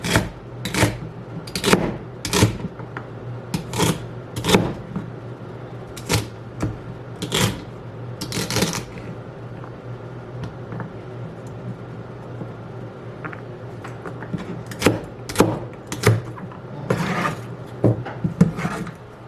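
A knife chops celery on a board in sharp, irregular bursts of crisp cuts, close by, pausing briefly in the middle before resuming.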